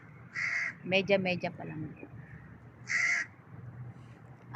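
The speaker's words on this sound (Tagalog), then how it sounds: "Ayan, may uwak." A crow caws in a few short, bright bursts near a fishing spot by a fish market, with a person speaking briefly between the calls.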